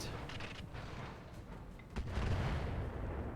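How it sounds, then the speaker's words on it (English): Artillery fire in the BattleTech game with the Roguetech mod: a broad, rumbling barrage of low booms that swells into a heavier, louder blast about two seconds in, then keeps roaring without any voices. "The artillery fire has found a new target"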